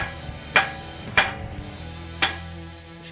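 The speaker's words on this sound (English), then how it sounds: "I usually just take a nice little hammer on the other side" A hammer strikes a steel knuckle three times to knock loose the old lower control arm of a Genesis Coupe, each blow a sharp metallic clang with ringing decay, spaced unevenly against quiet garage background.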